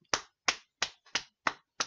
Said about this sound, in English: She's banging on the table.